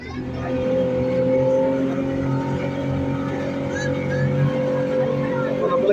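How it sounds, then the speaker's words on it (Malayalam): A motor boat on the Ganges River in Uttarakhand drones steadily at close range, its engine humming evenly without a break. "ഗംഗാനദി കൂടെ ബോട്ടിങ്ങിന് പോവാണ്"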